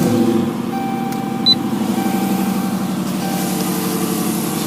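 A Dodge Charger R/T engine with an SRV intake starts up and settles into a steady, close idle. The rumble stays even throughout, with no talk over it.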